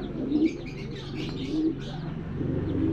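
Fancy pigeons cooing steadily inside a Pangasinan loft, low soft coos overlapping in a continuous near chorus with a few brief chirps on top.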